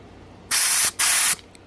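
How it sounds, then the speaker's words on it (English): Compressed air blasts gunk out of a Kawasaki ZX14 motorcycle fuel filter in two loud, close hissing bursts of about a third of a second each, separated by a brief gap, with quiet before and after. "we're just blowing all the gunk that's in there"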